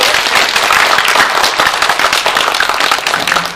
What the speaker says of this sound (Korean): 이 사회자에게도 격려의 박수를 다시 한번 부탁드립니다